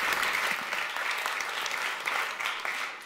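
A crowd claps in warm, sustained applause at a Dutch public talk evening in Amsterdam, dense and even throughout with no voices over it.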